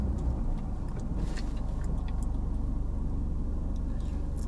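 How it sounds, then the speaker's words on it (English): A fire truck drives up Spring Road, its engine a steady low rumble that holds at a constant level throughout, with no siren standing out. "Got a fire truck coming up Spring Road here."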